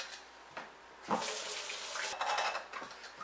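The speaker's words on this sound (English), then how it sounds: "I'll put cold water in the rest." Cold water runs from a tap into a kettle for yerba mate, a steady splashing rush that starts and stops, with a clink of the kettle near the end.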